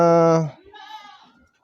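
Goat bleating loudly nearby in a single drawn-out call, then someone speaking over quieter farm ambience; setting is a goat farm.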